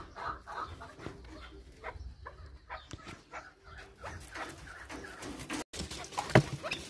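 Young chukar partridge chicks in an aviary give a busy mix of soft peeps and chirps, with clucking and a dog barking nearby amid background noise.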